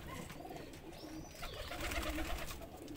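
Lal Shirazi pigeons in a breeding setup coo in soft, repeated low rumbling phrases close by, with faint chirps and background rustle and no talking.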